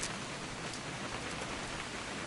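Steady, dense rainfall hisses evenly in the video game What Remains of Edith Finch, a constant wash of drops with no pauses.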